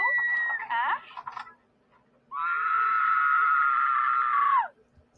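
A woman's high, sustained scream in an anime, held for about two seconds after a short burst of excited vocal sounds, loud and alone.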